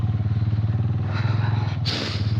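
Heavily loaded motorcycle riding slowly on a rough, slippery road in Balochistan, with a close, steady, pulsing engine thump and rattle under the wind noise.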